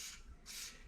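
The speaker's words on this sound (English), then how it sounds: "So you can spray it on the pivot points, and it'll leave a nice dry lubricant behind" Dry graphite lubricant sprayed from an aerosol can onto the jiffy stand pivot points of a 2023 Harley-Davidson Pan America during a 5000-mile service, giving two close, steady hissing bursts in quick succession.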